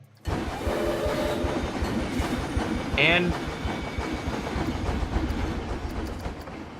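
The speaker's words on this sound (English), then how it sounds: "So I'm just waiting for this train. We're actually going to ride this train as it pulls in." Train in the Planet Coaster theme-park game pulling into a station, a steady rumbling clatter of railcars with a brief squeal near the middle, continuous and fairly loud throughout.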